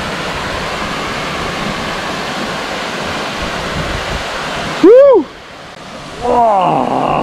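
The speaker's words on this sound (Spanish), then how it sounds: "Vamos a meternos debajo de la cascadini." Waterfall at a natural pool near Cortes de Pallás, Valencia, giving a loud, steady broadband rush of falling water close by that drops away near the end, where short voiced sounds break in.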